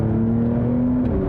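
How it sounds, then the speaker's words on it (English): A 2021 Porsche 911 Turbo sits with brake and accelerator floored for launch control, its engine holding a steady, close droning rev that climbs slightly, then eases before release. "floor the brake and the accelerator."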